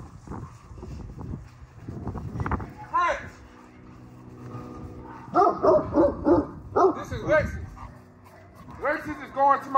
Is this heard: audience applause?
no